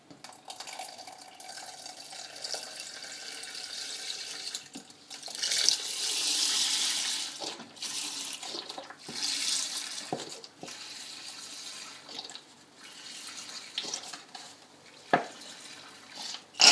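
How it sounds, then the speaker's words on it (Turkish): Milk poured into a cake batter for a chocolate-sauced baby biscuit cake makes a soft, steady liquid hiss with louder gushing swells and small splashes, ending in a couple of sharp clinks. No one speaks. "Sütümü ekliyorum."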